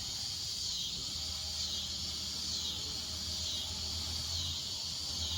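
Insects buzzing at night outdoors beside a Big Green Egg grill, a steady, continuous high-pitched drone holding unchanged throughout, with a faint low hum underneath.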